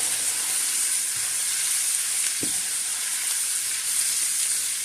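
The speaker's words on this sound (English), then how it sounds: "we're just going to cook up this flour" Flour cooking in hot fat in a Tramontina pan, a steady close sizzle and hiss with a brief scrape of stirring partway through.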